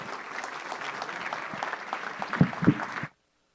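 Audience applause fills a board meeting room, steady clapping for about three seconds with a few louder claps near the end before it cuts off abruptly.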